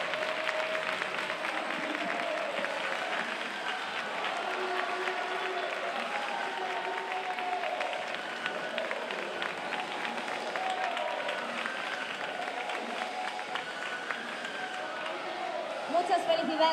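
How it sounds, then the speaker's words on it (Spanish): Audience at a Spanish-language award ceremony applauds a prize winner, a long, even wash of clapping heard from a distance with a murmur of voices beneath. "Un aplauso fuerte."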